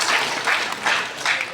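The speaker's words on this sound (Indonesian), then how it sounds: "tepuk tangan untuk Elsa Estetik" A short burst of applause, a crowd clapping in steady waves for Elsa Estetik at a training event, moderately loud and close, with no one speaking over it.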